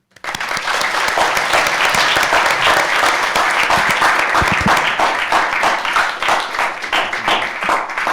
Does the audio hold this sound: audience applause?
yes